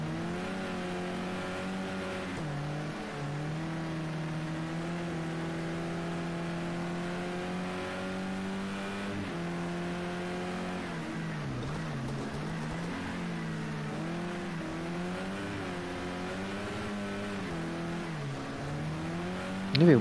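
Onboard engine of an Opel Astra touring race car at Spa, a loud continuous drone that climbs in pitch through the gears, with sharp drops at each upshift and a dip while braking for a corner.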